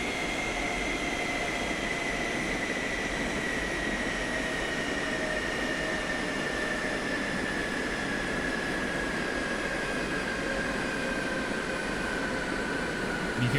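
Boeing 727 engines winding down in X-Plane 11, a steady loud whine and roar with a slowly falling tone, while the APU hums underneath, continuous with no talk.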